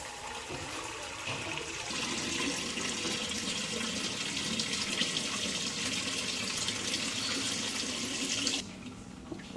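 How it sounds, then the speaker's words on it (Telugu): Water runs steadily from a tap into a vessel as a glass of rice grains is washed clean, a continuous near splashing wash that stops abruptly near the end; no one speaks. "బియ్యం పోసి పెట్టాను. ఇప్పుడు శుభ్రంగా కడుక్కుందాం మనము."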